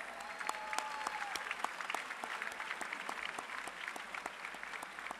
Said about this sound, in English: a very big round of applause for all the winners